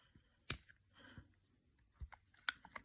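Sharp plastic clicks from pressing a tab to free a device's ribbon cable connector: a single loud snap, a softer rattle, then a cluster of quick light clicks near the end, close and otherwise quiet.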